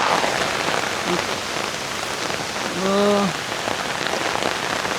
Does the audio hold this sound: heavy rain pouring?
yes